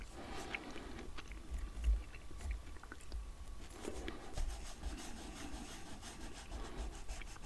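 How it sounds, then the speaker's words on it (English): Soft, close scratchy rubbing of an eraser on paper over a pencil-drawn map, in quiet continuous strokes with faint crinkles. "I better rub that out"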